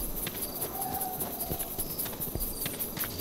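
Donkey hooves clip-clop steadily in the Savage Lands fantasy survival video game, a quick rhythmic run of close, even hoofbeats over a constant background hum with no talk.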